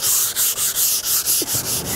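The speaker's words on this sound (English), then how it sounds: "for the final sanding, I am gonna use some 220 grit, very fine sandpaper. And I'm just gonna do this by hand." Hand sanding of a wooden French Provincial vanity with fine 220 grit sandpaper, rhythmic back-and-forth scratchy strokes, about nine even passes, close and loud with no talking.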